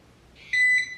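A short electronic beep from a skincare device timer, a high bright tone that rises in and stops after about half a second, with no talking.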